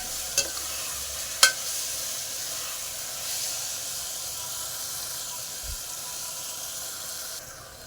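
Capsicum sautéing in a pan for a lamb lung curry gives a steady, soft sizzling hiss, with a couple of sharp clicks early on and a low bump near the end.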